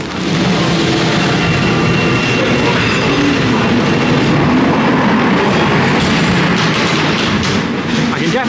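Ghost Train dark ride cars at Blackpool Pleasure Beach rolling steadily along the track with a continuous loud rumble and faint wheel clatter, no pauses, over roughly eight seconds of busy background noise.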